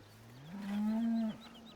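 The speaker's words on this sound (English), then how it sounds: "where did that cow up here from?" A cow mooing in the farming video game Farming Simulator 2017, one long low moo swelling for under a second then cutting off, with faint birdlike chirps in the background.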